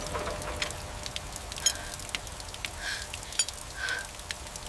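Light rain patters faintly and steadily on surfaces, a soft continuous hiss with scattered small drop ticks and no voices.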